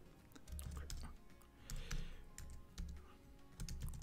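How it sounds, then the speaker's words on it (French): A password typed on a computer keyboard while logging into a Synology collaborative account, with steady, moderately quiet key taps in quick bursts and no one talking. "Je tape le mot de passe de l'utilisateur Chloé."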